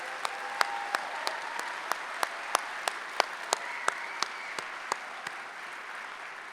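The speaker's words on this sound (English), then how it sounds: "yeah, that deserves a round of applause." Audience applause at a San Jose Police Academy Class 53 graduation ceremony, a steady hall-wide wash of many hands clapping with sharp individual claps popping through, sustained evenly without talk.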